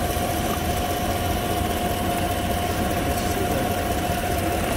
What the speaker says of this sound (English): It's an exhaust leak, that noise.